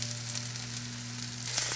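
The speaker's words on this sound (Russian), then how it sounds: "Спокойно перемешиваем муку с грибами." Mushrooms and flour frying in a pan, a soft steady sizzle with a stirring scrape near the end.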